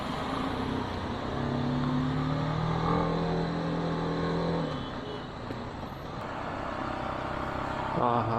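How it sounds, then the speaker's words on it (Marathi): Expressway traffic rumbles by below a ghat road, heard from a BMW G 310 GS motorbike on a night ride from Mumbai to Goa; a steady engine and road drone swells and fades as vehicles pass, with some faint voice activity. "एक्सप्रेस हायवेचं ट्रॅफिक बघा"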